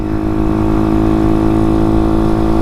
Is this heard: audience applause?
no